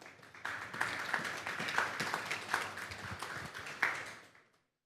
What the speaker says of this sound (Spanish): Vamos a darle un fuerte aplauso al Señor esta tarde